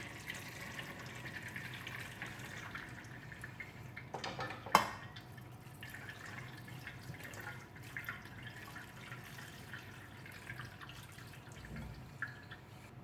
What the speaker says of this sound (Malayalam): ഇനി ഇതിൽ തണുത്ത വെള്ളം ഒഴിക്കണം